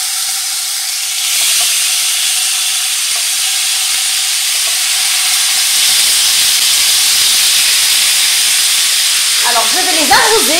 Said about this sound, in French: J'ai mis un peu d'huile dans une poêle anti-adhésif. Et là, je vais griller mes brochettes.